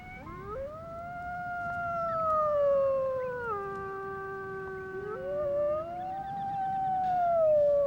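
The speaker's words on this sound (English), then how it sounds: "Howling is infectious, It's a chorus that seems to bond the family together." A family of wolves howls in chorus, several long rising and falling voices overlapping and gliding between pitches, fairly close and steady for the whole stretch with no talk.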